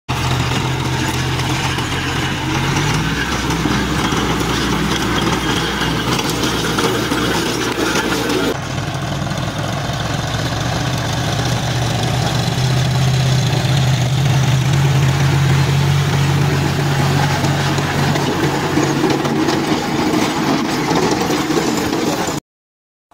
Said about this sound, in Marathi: चालू केलं रोटाटर.